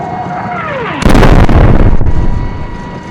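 Sudden loud explosion effect: a falling whistle gives way to a heavy blast with rumbling, crackling debris that slowly fades over the next two seconds.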